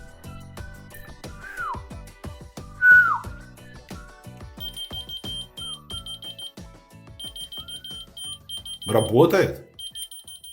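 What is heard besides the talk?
whistle-activated keychain finder beeping in response to whistle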